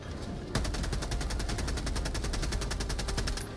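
A long unbroken burst of automatic gunfire empties a full magazine in Helldivers 2. Close, loud shots in a fast, steady rhythm run for about three seconds, then stop abruptly.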